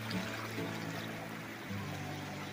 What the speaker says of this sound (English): Okay, I'm now in the middle of the river.